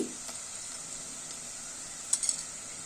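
Cardamom and cinnamon fry in a pan while making sweet rice, giving a soft, steady sizzling hiss with a few light clinks near the end, fairly quiet and close.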